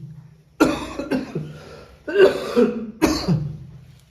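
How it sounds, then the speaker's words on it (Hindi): A person coughs and clears their throat several times in short, rough bursts, close and fairly loud, with brief pauses between. "अरे यार खांसी है मुझे।"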